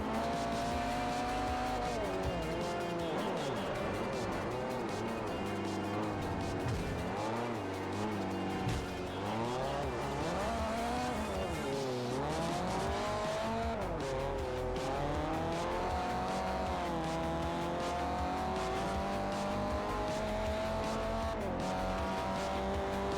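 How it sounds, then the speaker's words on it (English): Racing cars from Forza Motorsport 4 roar steadily through the whole stretch, engine pitch sweeping up and down with tyres squealing under locked-up braking, loud and continuous with no voices. "brakes locking up?"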